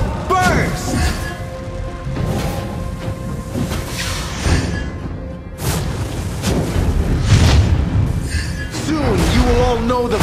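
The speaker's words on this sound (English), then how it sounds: "Lava Burst!" Lava Burst fire spell explosions in a video game, a series of heavy booming crashes and impacts with rising magical tones, overlapping with game music and voiced lines.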